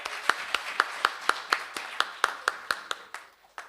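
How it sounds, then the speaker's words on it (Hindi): Slow, rhythmic clapping at a poetry gathering in a Zila Panchayat hall: about a dozen evenly spaced, sharp claps in unison, moderately close, fading slightly toward the end with one final clap. "एक बार जोरदार तालियां बजाइए"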